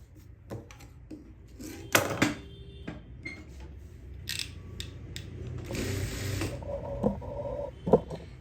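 A sewing machine stitching a side seam on a lined salwar: short bursts of mechanical whirring, clicks and ratcheting, close and moderately loud, with no talking.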